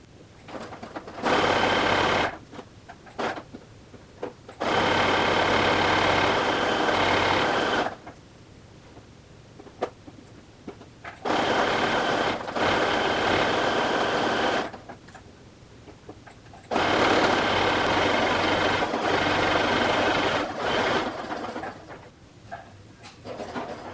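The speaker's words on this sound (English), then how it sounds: "I want to go ahead and stitch that whole neck seam now" Sewing machine stitching the neck seam of a hoodie, running in three long steady bursts separated by short pauses, loud and close with no voices.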